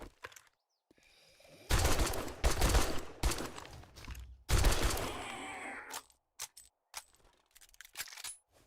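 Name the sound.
machine gun firing in video game 7 Days to Die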